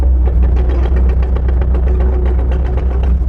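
A 2017 Kubota KX57 mini excavator drives along, its diesel engine thrumming loudly and steadily nearby with a rapid, rough pulsing.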